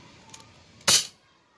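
A single sharp shot from a single-shot MkII air rifle, a short snappy crack against quiet background with a faint click just before.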